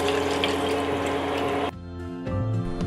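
A cup of water pours into a cooking pan of kurma masala, a brief close splash and gush that cuts off abruptly, followed by a few faint drips and pan sounds.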